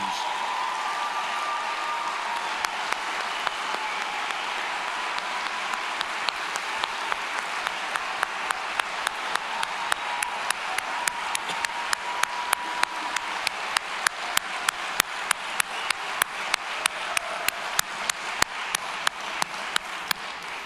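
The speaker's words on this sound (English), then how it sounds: "I think these guys and gals deserve a tremendous round of applause, appreciation, and congratulations." Sustained audience applause fills a graduation ceremony for a recruit academy class, dense steady clapping that grows louder with sharper individual claps standing out toward the end, with faint voices beneath.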